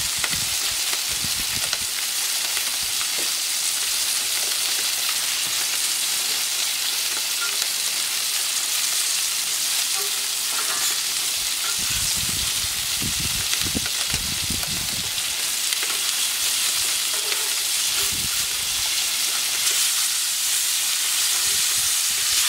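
Duck breast frying in a pan over lowered heat, a steady broadband sizzle and crackle running throughout, with occasional louder spitting bursts and faint clatter.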